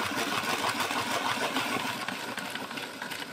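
A Mitsubishi KH-20 hand-crank pencil sharpener grinds a pencil with a continuous, dense, rhythmic rasping and whirring, fairly close and steady the whole time.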